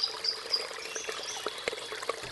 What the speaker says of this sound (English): you smell and hear fresh water. There's a creek nearby